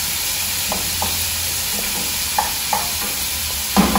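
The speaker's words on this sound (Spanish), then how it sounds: "Seguimos meneando aquí, amiguitos, para que igual se fría muy bien el jitomate con" Tomato and vegetables fry in a pan for a shrimp spaghetti dish, a soft, even sizzle broken by scattered clicks and scrapes of a utensil stirring.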